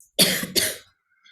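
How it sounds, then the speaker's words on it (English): Two quick, close coughs in a row from an adult lecturer, loud and harsh, followed by silence. "Sorry for this coughing in between."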